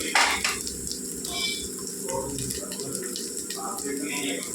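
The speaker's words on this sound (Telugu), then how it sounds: "ఇందులో నీళ్ళు వేసుకుందామండి ఇప్పుడు" Water is poured into a pot of prawn pulao with coriander and mint, a close, rushing splash that begins loudly and continues as a steady pour, with a voice talking over it.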